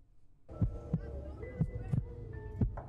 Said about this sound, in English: Not the fucking heartbeat already.